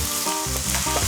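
Garlic sizzles in a hot pan while it is stirred, a close, steady frying crackle with short scraping pulses of movement and no voices.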